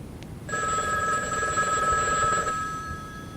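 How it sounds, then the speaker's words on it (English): A telephone bell rings in one sustained burst of about two seconds, a bright, close electronic-sounding trill over a steady low background hiss, with no talking. "Hey, Harvey, answer the phone."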